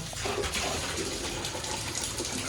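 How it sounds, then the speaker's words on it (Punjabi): Water gushing steadily from a tap left open at home, a continuous loud rushing hiss with no pauses and no one speaking. "ਟੂਟੀ ਬੰਦ ਨਹੀਂ ਕਰੀ ਹੋਣੀ"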